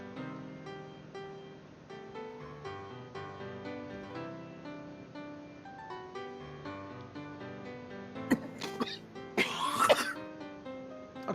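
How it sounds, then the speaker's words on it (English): Someone coughs during a pony fan talk show: a couple of short, harsh cough bursts near the end, rising over quiet background music. "I was just coughing"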